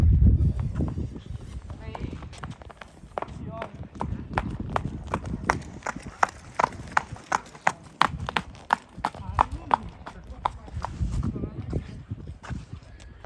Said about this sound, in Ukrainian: Вона ж клапає легенько. Хід такий легонький в неї, так вона аж так плиє.